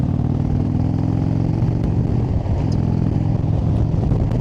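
An Indian Chieftain Limited motorcycle engine drones steadily and loudly while riding, with wind rush and a low continuous rumble throughout.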